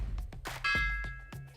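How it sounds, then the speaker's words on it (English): The New York Stock Exchange bell rings with a bright, sustained metallic tone after a few sharp gavel knocks, loud and close, with the ring held for about a second before further knocks. "This is the New York Stock Exchange bell"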